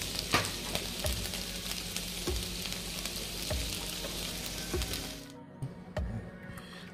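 Green chillies and ivy gourd fry in a pan, sizzling steadily with scraping stirs and soft clacks, loud and close before the hiss drops away near the end.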